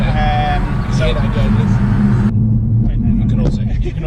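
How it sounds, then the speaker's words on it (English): Steady low road rumble and tyre roar fill the cabin of a moving Mercedes A45 AMG with a sports exhaust, loud and continuous throughout, with a brief change partway through. "you can also hear the road."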